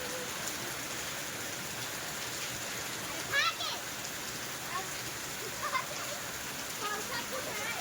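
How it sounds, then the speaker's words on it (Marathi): Heavy rain pours down in a dense, constant hiss, with a few faint voices briefly rising above the downpour. "आणि इतका पाऊस पडायला लागलाय"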